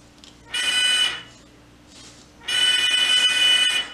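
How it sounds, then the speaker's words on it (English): Buzzer in a simple parallel doorbell circuit switched by touching paper clips, giving two loud harsh electric buzzes, the second longer, separated by a faint short burst. "the doorbell only rings when our paper clips go together"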